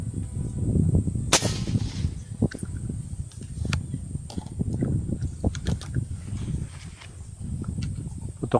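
A single sharp gunshot cracks out early while hunting, followed by scattered clicks and rustling outdoor noise throughout.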